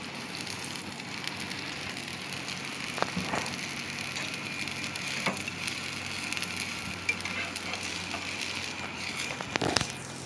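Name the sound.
hot oil sizzling in a frying pan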